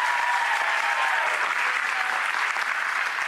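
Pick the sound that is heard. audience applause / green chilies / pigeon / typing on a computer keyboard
audience applause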